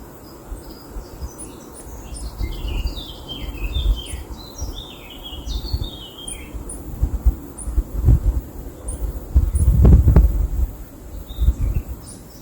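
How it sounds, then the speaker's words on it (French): Several birds chirp and sing at dawn in a quiet Alpine mountain landscape, short bright calls scattered over a steady insect buzz and soft low rumbles. "À mon réveil, la nature est paisible et j'entends juste le ramage de quelques oiseaux."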